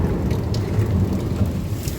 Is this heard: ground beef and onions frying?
no